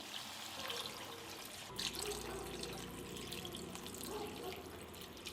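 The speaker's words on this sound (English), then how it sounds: "Add 3 cups of water." Water pours steadily into a pot of duck curry with ash gourd, a faint, continuous splashing trickle heard alone at low level.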